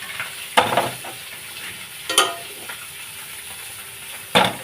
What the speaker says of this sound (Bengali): দেখো মাছের মাথা ভাজা হয়ে গেছে